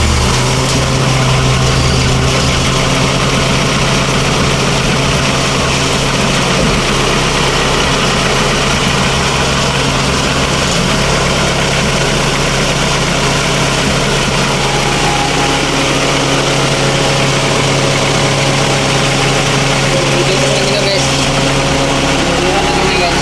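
Mitsubishi Lancer 4G15 engine idling steadily after a piston ring change, a continuous low drone and hum held throughout at close range, with a voice talking over it.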